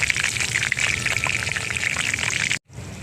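Onion paste goes into a hot pot while cooking chepala pulusu, a fish curry, producing a loud, steady, close hiss and sizzle that runs unbroken before cutting off abruptly near the end.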